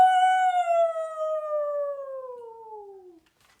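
A person imitates a coyote howl, one long sustained wavering note that slowly slides downward in pitch before fading out, clear and close.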